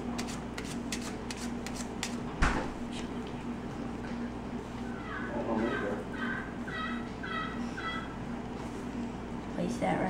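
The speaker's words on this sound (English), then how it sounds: "shuffle them and cut the pack" Riffling cards shuffled in quick bursts, with a sharp snap partway through, under steady background hum and a voice speaking nearby.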